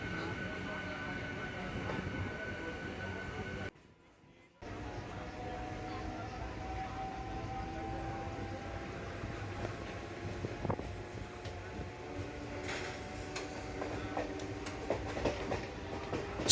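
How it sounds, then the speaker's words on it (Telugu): A MEMU commuter train pulls away from Moula Ali station, with a continuous low rumble and hum of the moving carriages, a brief drop in sound, then steady rolling noise with occasional clanks. "మౌలాలి స్టేషన్ నుంచి అయితే ట్రైన్ మళ్ళీ కదిలింది."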